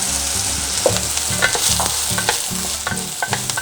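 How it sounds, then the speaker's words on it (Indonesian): Onion and garlic sautéing in oil in a pan, a steady close sizzle broken by regular rhythmic scrapes and clanks of a utensil stirring, with no voices. "sekarang kita mau tumis bawang bombay dan juga"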